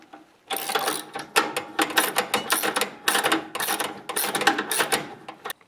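A ratchet on a very long extension with a 7/16 socket drives a lock nut on an Ariens snowblower drive, clicking loud and fast in steady bursts with brief pauses between strokes, no voices.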